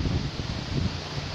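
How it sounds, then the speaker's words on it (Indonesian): Rain mixed with wind in Nganjuk, a steady rushing hiss with low gusty rumbling underneath, continuous and fairly close, with no voices. "Ini hujan lur. Nganjuk hujan lur. Hujan campur angin lur."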